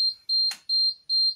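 A new fire alarm system, set off from a manual call point, sounds in repeated high-pitched electronic beeps, evenly spaced and loud, with a short burst of noise between the first tones.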